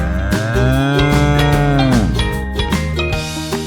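A cow gives one long, low moo that bends downward, loud and close, over upbeat background music.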